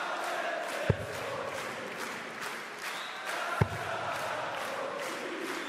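A crowd at a PDC darts tournament in the Czech Republic murmurs and chants faintly in the distance beneath a talking voice, with two sharp thumps standing out.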